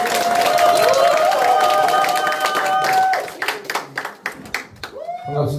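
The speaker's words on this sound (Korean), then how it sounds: "여러분의 큰 박수로 모시겠습니다" Audience clapping at a committee launch ceremony, a dense ovation that thins into scattered claps and fades out, with a voice speaking and ringing feedback from the PA.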